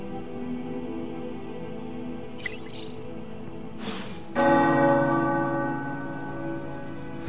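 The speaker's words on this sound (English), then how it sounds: "The tower bells are ringing." Tower bells ringing in Marvel's Midnight Suns, a game, heard as sustained resonant tolls that swell louder partway through over a soft ambient bed, with a few brief bright clinks early on.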